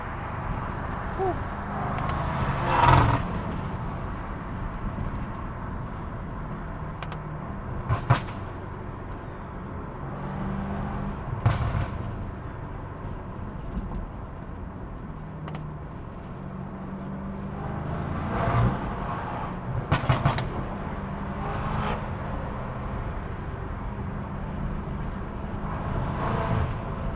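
A sports car's loud intake roar fills the scene from inside the moving car, steady and broken by scattered sharp knocks and bursts of noise.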